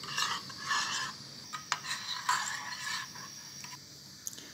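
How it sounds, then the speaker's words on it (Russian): A spoon scrapes and swirls in a small pot of Turkish coffee in short repeated strokes, with light metallic clinks against the rim. "То есть постоянно ложкой перемешиваем."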